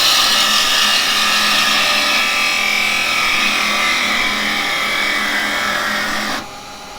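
A wood lathe spins steadily while a turned carbide-chisel tree is sanded, a loud continuous broadband hiss and rumble that drops off sharply near the end as the sanding stops.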